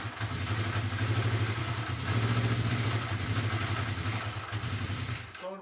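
A 1980 Honda CB650 motorcycle engine runs loudly nearby, its throttle opened to rev it in two swelling pulses over a rough, lumpy idle before it cuts off abruptly at the end.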